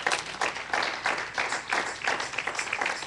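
A church congregation bursts into rhythmic applause for the Lord during a Spanish-language sermon, with loud, dense clapping swelling in waves, steady and enthusiastic throughout.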